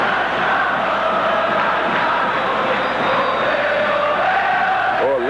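Football crowd at a 1987 Brazilian championship semifinal between Flamengo and Atlético-MG, Atlético fans chanting "Olê, olê, dá-lhe galo" in a loud, steady, distant stadium roar with sustained wavering voices throughout.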